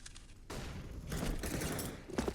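Gunfire and an incendiary grenade in a CS:GO match on the Nuke map, heard as a faint, dense fusillade of bursts with a crackling, roaring backdrop throughout.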